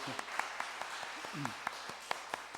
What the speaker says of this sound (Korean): 우리 다시 한번 큰 박수로 감사하겠습니다